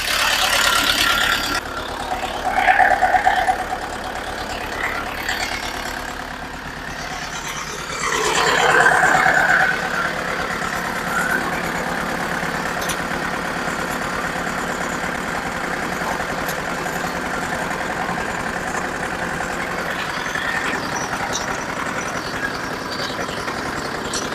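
A Kentavr 404 tractor engine starts up and settles into a steady, rumbling idle that carries on evenly for a long stretch, close and fairly loud.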